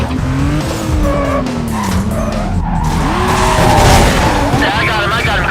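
A police car is hit during a pursuit in the Need for Speed Carbon video game, with loud engine roar, screeching tire skids and a thud, while radio chatter talks over it.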